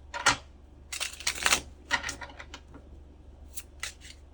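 Tarot cards being shuffled by hand, a series of crisp papery riffles and flicks in uneven bursts, close and moderately loud against a quiet background, with no talking.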